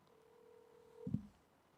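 A telephone call connects: a faint steady ringing tone holds for about a second, then cuts off into a short, louder click and burst from the handset.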